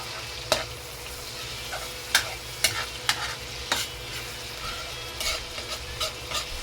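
Skinless sausages frying in a pan, soft constant sizzle with sharp clinks and scrapes of a utensil stirring and turning them, close and without talk.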